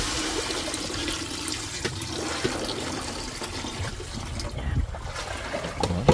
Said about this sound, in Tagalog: Lagyan na natin ng tubig.